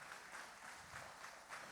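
Congregation applauding during a Sunday church service, a steady wash of many hands clapping at moderate level with no voices over it.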